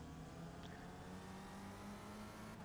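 Spec Racer Ford race car in iRacing, a faint steady engine drone with a held tone and mild wavering, no speech.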